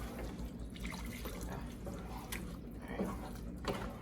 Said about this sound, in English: I'm now going to pour in my goat stock